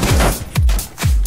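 Gunfire in Rainbow Six Siege, three heavy shots spaced roughly half a second apart, each a loud blast with a booming low tail, close and unaccompanied by speech.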